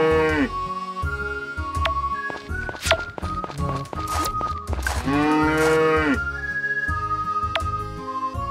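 Cow in the farming game Story of Seasons: Friends of Mineral Town gives several clear, loud moos over light background game music, with soft tapping footsteps between calls and no talking.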